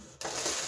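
Plastic bubble wrap packaging from an Urban Decay Prince makeup order crackles and rustles as it is handled, starting abruptly after a brief quiet moment and continuing as a close, steady crinkling with no talking.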